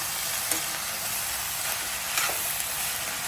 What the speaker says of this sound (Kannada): ಕ್ಯಾರೆಟ್ ಇಷ್ಟು ಹಾಕಿ ಸ್ವಲ್ಪ ಬಾಡಿಸಿ ಲೈಟಾಗಿ ಕಡಿಮೆ ಮಾಡಿ